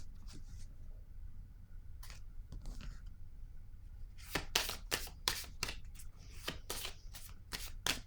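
Playing cards drawn and handled, heard as sparse soft flicks at first, then a close run of crisp snaps and riffles in quick succession, quiet and with no talking.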